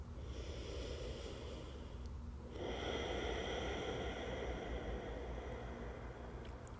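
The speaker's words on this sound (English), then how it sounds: "Take one more big breath in." A slow, deep inhalation during an upper-body myofascial release session, rising as a long, steady breath of air noise that swells midway and holds for several seconds, heard close without talk.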